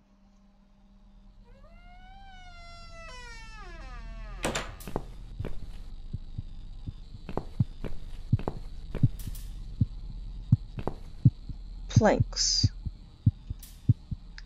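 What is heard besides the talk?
heartbeat ramping up in The Cat Lady video game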